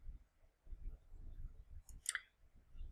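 A single faint computer mouse click, one short crisp tick about two thirds of the way through, set against a quiet room hum.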